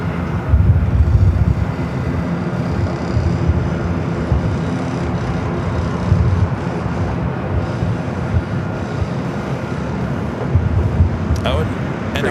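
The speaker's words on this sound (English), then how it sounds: "Why am I so excited to see an ATR? Because it's something completely different at LAX." ATR turboprop aircraft at LAX airport, a steady broad engine rumble from a distance with a person talking over it.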